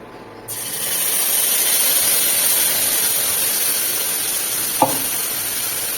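Spice paste of poppy seed, peanut, ginger and green chili hits hot oil, setting off a loud, steady sizzle that holds for several seconds, with a brief clatter of a utensil near the end.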